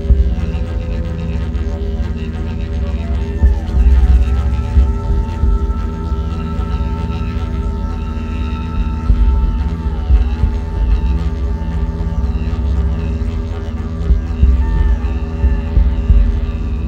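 A deep, steady didgeridoo drone with low throbbing pulses and a buzzing overtone layer, sustained and fairly loud throughout, with no voices.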